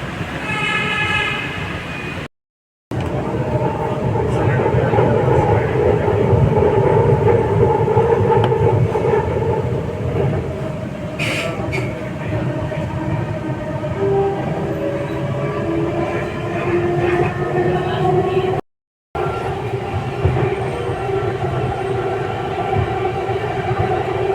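A Bengaluru Metro train runs steadily at night with a loud rumbling drone and rising motor whine, briefly cut off twice; no talking.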